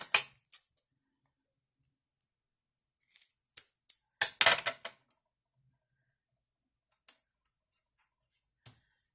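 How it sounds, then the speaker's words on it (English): Scissors snip through small strips of foam tape while card-making, a few isolated crisp cuts early on, then a quick cluster of snips in the middle and two faint lone clips near the end, close and otherwise quiet. "I'm just going to cut little strips to put on each side of that piece"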